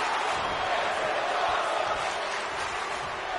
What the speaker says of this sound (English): Fans are cheering for Brawlski now.